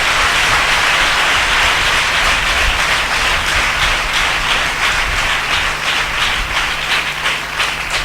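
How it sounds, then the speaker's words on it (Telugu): A church congregation claps loudly and continuously, a dense sustained roar of many hands filling the hall without a break. "చప్పట్లు కొట్టు గట్టిగా"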